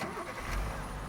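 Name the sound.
monster truck engine in a bridge-building video game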